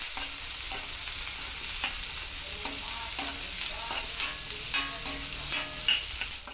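Masala for paneer butter masala sizzles and fries in a pan while it is stirred, a close, steady crackle with regular scraping strokes throughout and no talk.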